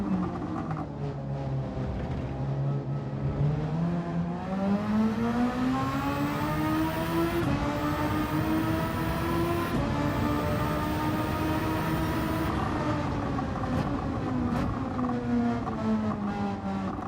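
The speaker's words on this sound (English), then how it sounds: "I can hear our engines." Race car engines in Forza Horizon 5 during a co-op lap race produce a loud, sustained droning roar. The pitch climbs steadily as the cars accelerate, with no voices over it.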